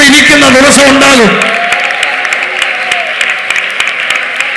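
An audience at a church meeting breaks into applause, a steady patter of clapping that follows someone speaking loudly and then carries on alone.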